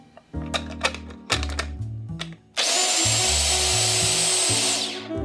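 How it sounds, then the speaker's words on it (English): Food processor whirring through Caesar dressing ingredients, first in several short stop-start pulses, then a loud continuous high-pitched blending run for a couple of seconds before winding down. "Now you see all the ingredients in the food processor, we're just gonna give it a whirl."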